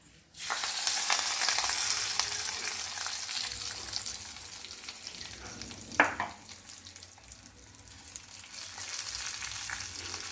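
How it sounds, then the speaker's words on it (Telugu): Hot fried tempering of oil and spices hits a bowl of Andhra-style tomato chutney with a sudden steady sizzle that crackles on for several seconds, with one sharp clink of a utensil partway through. "ఈ వేగిన తాలింపుని ఈ పచ్చళ్ళలో వేసేసుకుందాం"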